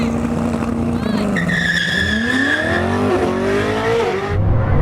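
A Koenigsegg Jesko Absolut and a Bugatti Chiron SS drag race over a standing half mile, engines roaring loud and close as rising and falling gear tones sweep upward; a continuous powerful drone with tire noise, no voices.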